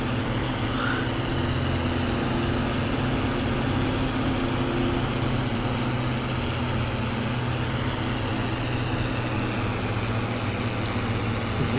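A tractor engine drones steadily and continuously in the farming game Farming Simulator 22, on the Lands of Italy map, with the tractor badly worn. The hum stays at a moderate, even level throughout, with no talking.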